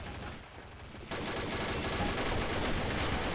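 Dense, sustained gunfire in the shooter game Combat Arms fills the clip after a brief lull, rapid shots blending into a continuous loud barrage with a game-like, processed quality.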